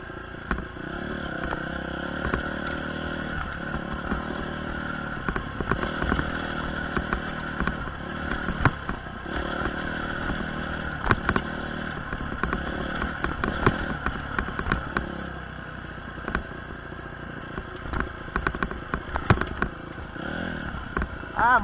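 A motorcycle is ridden with its engine droning throughout, close and steady, with scattered sharp pops and crackles from the exhaust as the throttle is cut.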